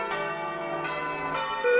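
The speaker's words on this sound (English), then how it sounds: "The church bells rang out over the city" Church bells ring out in a story setting, several clear resonant strikes spaced about half a second apart, each leaving a long bright ringing decay, with narration heard faintly alongside.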